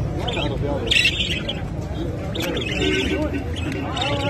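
Caged birds at a Baghdad animal market chirp and squawk in repeated bursts close by, over a constant hubbub of market chatter and people talking.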